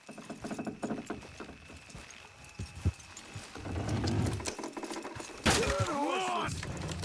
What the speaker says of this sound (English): Horses will pull it clean down.